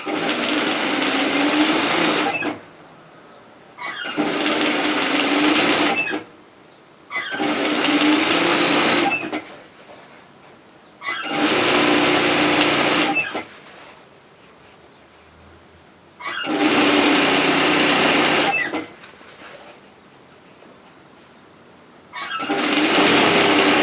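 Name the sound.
sewing machine stitching side seam of tote bag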